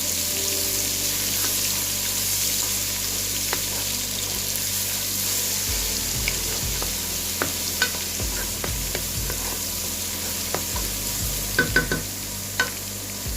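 Ginger and garlic fry in a pan for a chana dal tarka, giving a steady close sizzle with intermittent scraping stirs and clinks of a spoon.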